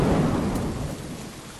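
A thunderstorm in the video game Lethal Company: a loud low rumble of thunder that slowly fades, with steady rain hiss throughout and no voices.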